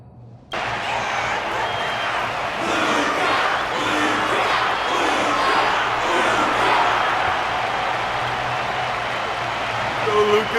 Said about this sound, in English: Their constant applause is a salute to this resilient Balabagian fighter.